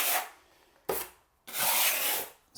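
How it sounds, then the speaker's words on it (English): A tool scrapes excess thinset mortar off a concrete floor in three gritty strokes, the last one longest, each separated by brief quiet. "scrape this excess thin set off"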